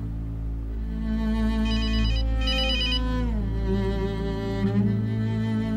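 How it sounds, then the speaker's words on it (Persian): Mobile phone ringtone from a dubbed Turkish drama, a melodic electronic tune playing steadily for several seconds over a low background hum. "موبایلتون رو جواب بدین"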